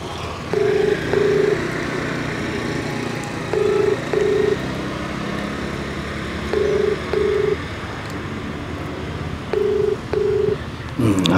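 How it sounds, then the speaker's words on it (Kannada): An outgoing phone call rings on loudspeaker, with four evenly spaced pairs of short ringback tones over a steady low background hum and no speech. "ಯಾರಿಗೆ ಕನೆಕ್ಟ್ ಆಗುತ್ತೆ ಗೊತ್ತಿಲ್ಲ. ಕಾಲ್ ಮಾಡ್ತವ್ರೆ ನೋಡೋಣ."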